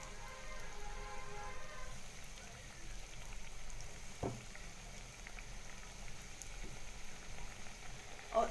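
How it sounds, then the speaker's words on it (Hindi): Garlic potato bites fry in hot oil, giving a steady, moderately loud bubbling sizzle that runs the whole time, with a single sharp tap partway through and a brief knock near the end. "फ्राई करेंगे तेल के अंदर।"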